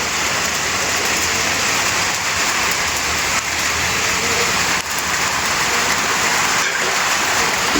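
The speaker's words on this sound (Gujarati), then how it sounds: "અચાનક વરસાદ વધારે ચાલુ થઈ ગયો." Heavy rain pouring down steadily in a dense, loud hiss that stays constant throughout, with no voices and only faint momentary dips.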